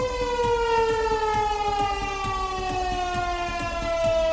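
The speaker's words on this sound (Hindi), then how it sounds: "इसी बेचैनी में मियां शहबाज ने पूरे मुल्क में सायरन लगाने का हुक्म दे दिया।" A civil defense siren wails continuously, its tone slowly sliding downward, loud and steady with a faint repeating clatter underneath.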